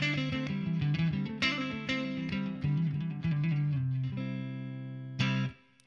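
Electric guitar plays a chord substitution for an A root barre chord, a run of rhythmic strummed and embellished chord voicings with a clean, slightly driven tone, ending on a final ringing strum.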